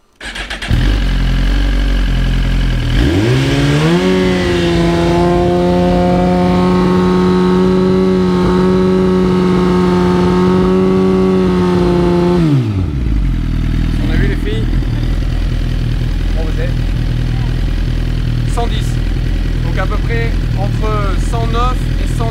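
Motorcycle fitted with an Akrapovič Evolution Line titanium exhaust, measured about a metre from the pipe at 45 degrees, revs up hard and holds a loud steady high-rpm note for about ten seconds, then drops back to a lumpy idle with brief blips.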